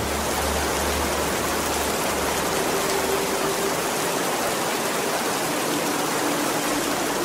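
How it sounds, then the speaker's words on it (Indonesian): Steady rainfall as a sound effect, a dense even hiss of falling drops without pause, moderately loud and uniform from start to finish. "beriring jatuhnya rintikan air hujan"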